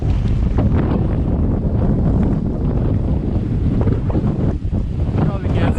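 Strong wind buffets the microphone on a sailboat, a loud continuous roar with gusty rumble and faint water sounds beneath.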